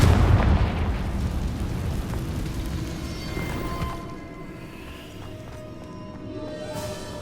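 A Confringo blasting spell explodes in the Hogwarts Legacy video game, opening with a loud, deep burst that rolls into a long rumbling decay over steady ambient game sound.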